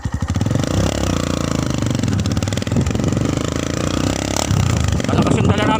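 A Kawasaki 175 motorcycle engine, popping and sputtering, runs loud and close on a ride past sugarcane fields, with a rough, steady throb that continues throughout.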